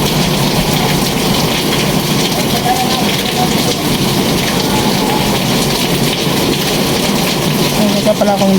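Heavy rain pours in a dense, constant hiss and patter, loud and unbroken throughout, with no voices.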